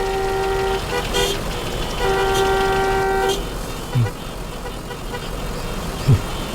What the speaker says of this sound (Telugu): ఏంటి ట్రాఫిక్ జామ్ అయింది?